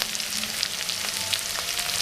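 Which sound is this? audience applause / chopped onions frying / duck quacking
chopped onions frying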